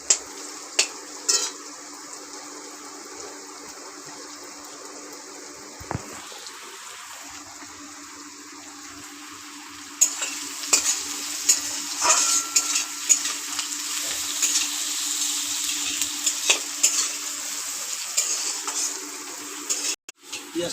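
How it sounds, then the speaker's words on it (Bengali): Onions sizzle and crackle in hot oil in a pan, a steady frying hiss with intermittent scraping strokes as they are stirred, growing louder and busier in the second half. "পেঁয়াজটা লাল লাল করে ভাজা হয়ে গেছে"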